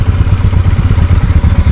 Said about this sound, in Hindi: मैंने अभी बाइक न्यूट्रल में रखी है।